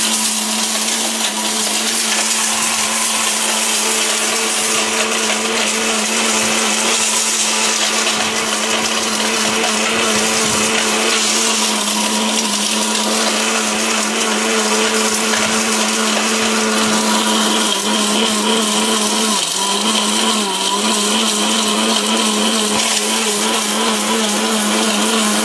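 A kitchen blender with a 100% copper motor and internal fan runs continuously at full power, a loud steady whirring drone with grinding rattles from the jar, close and unbroken throughout.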